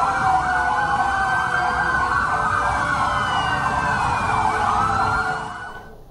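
Sirens of tactical police vehicles parked at the gate of the Attorney General's office in Jakarta wail continuously with warbling, sweeping tones, loud and steady before fading out near the end.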